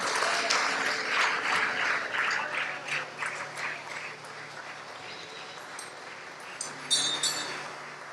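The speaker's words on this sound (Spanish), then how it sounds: "Démosle un aplauso a Cristo" A church congregation applauds during a sermon, a broad wash of clapping that starts strong and gradually thins and fades, with a few faint clinks near the end.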